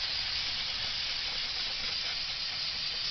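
Aerosol spray can blasting cleaner onto greasy, dirty brake parts from a 1953 Ford sedan, a steady, close, continuous hiss held without a break, no talking.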